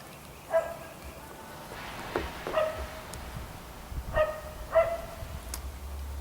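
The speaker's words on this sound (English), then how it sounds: "Sounds like all my neighbors' puppies decided to kick off today at the same time." Several dogs bark in short bursts, a few yips scattered over a steady background hum; the barks sound moderately distant and overlap loosely.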